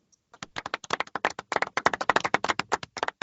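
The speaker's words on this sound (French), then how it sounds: "La clap de golf." A golf clap: a small group, or a single person, gives soft, polite clapping, with quick, fairly even claps close by for about three seconds and no talking.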